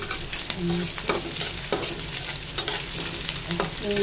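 Shrimp fry in a pan with pointed gourd, potato and eggplant, giving a steady close sizzle broken by repeated scraping and clinking stirs, with no voices.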